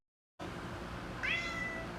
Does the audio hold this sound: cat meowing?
yes